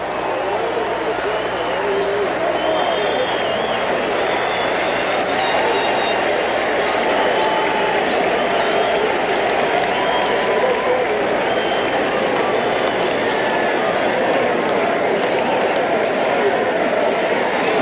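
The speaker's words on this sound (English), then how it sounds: "Now they cheer for Ernie Witt." A packed baseball stadium crowd cheers steadily at a 1987 Toronto Blue Jays home game against the Detroit Tigers, a dense, continuous roar that holds at high volume throughout.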